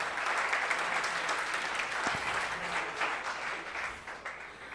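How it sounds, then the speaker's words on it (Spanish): A Spanish-speaking church congregation applauding, sustained, somewhat distant crowd clapping that stays even and then tapers slightly toward the end. "un aplauso al Señor para que despierten"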